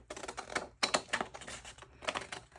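Paper being cut with scissors or a trimmer for a Christmas junk journal craft, heard as close, repeated crisp snipping and rustling in three bursts with short pauses between them.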